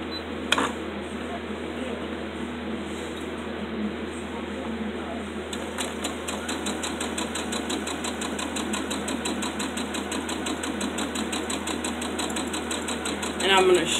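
A sewing machine stitches down one side of fabric bunting, a steady close mechanical whir running through the clip, which starts a little lighter and grows denser and more rhythmic partway through, with a brief knock near the start and end.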